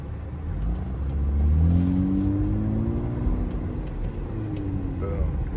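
A 1998 Honda Accord EX-L V6 coupe accelerates in D4 with a transmission fault, its engine droning and rising in pitch in uneven steps, loud and close from inside the car.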